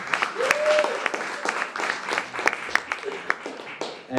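Applause from an audience at a film premiere, a fairly dense patter of clapping with some louder claps standing out, held steady for a few seconds with scattered cheers or voices mixed in.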